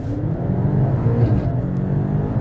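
Cars at a BMW driving class rev and pull away from a standing start in a sustained, loud, close engine roar with a slight swell midway, and no clear voices.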